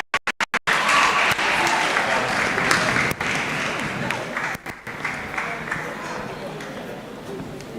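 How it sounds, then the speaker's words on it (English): Sustained audience applause at a university modern languages department anniversary colloquium, dense and steady for several seconds after a few sharp opening claps, with a brief dip near the middle. "Yes, please, keep clapping,"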